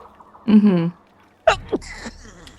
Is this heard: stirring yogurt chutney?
no